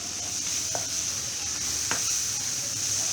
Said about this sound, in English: So we're going to fry this for at least half a minute